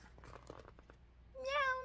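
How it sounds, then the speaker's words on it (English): A cat gives a single clear, rising-falling meow near the end, preceded by faint scratchy rustling and light tapping, fairly close but soft overall. "Meow, meow, right?"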